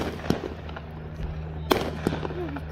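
Fireworks at a July 4th display in Log Lane Village, Colorado, heard as several sharp, fairly distant pops and bursts spaced a second or so apart over a low steady background rumble.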